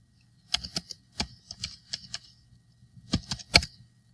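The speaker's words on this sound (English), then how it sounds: "type in toggle cameras." A command is typed on a computer keyboard in a series of crisp, quiet key clicks, one irregular burst of strokes, a pause, then a few final presses.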